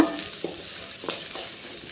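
Chutney ingredients with a little tamarind sautéing in a pan: a soft steady sizzle with a few scraping stirs, close by and alone.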